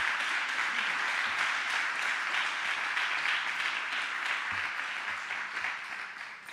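A church congregation claps together in praise during a service, a sustained, even wash of applause heard from a moderate distance and fading slightly toward the end.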